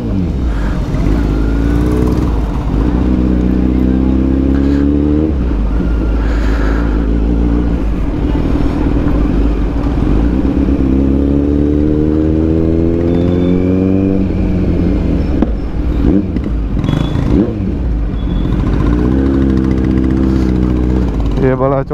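A Kawasaki Z900 motorcycle with a Racefit exhaust revs loudly and close by, its deep rumble climbing and falling through several throttle blips over a continuous idle.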